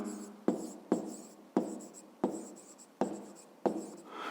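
Pen strokes on paper while writing out a fifth-grade geometry answer come in a series of about seven short, scratchy bursts, each starting sharply, close and quiet, with no talk.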